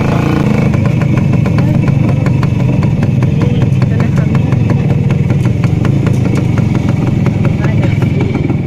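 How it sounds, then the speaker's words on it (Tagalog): Street traffic with motorcycles: steady, loud engine rumble and idling throughout, with small rhythmic pulses like nearby motorbikes, continuous and close. "Medyo nag-traffic pa."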